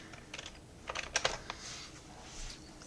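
A computer keyboard is typed on while entering a project name: a short, close run of light clicking keystrokes in small irregular clusters, fairly quiet against a low background hum.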